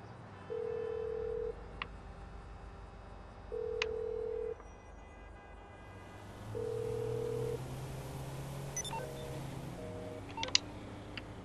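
Phone in the video game GTA V giving repeated busy-signal tones, three steady beeps spaced evenly apart, then a hiss of static with faint clicks and beeps.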